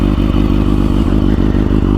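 A BMW HP4 superbike with an aftermarket exhaust runs close and loud with a steady, rapid, throbbing pulse, heard alone for two seconds.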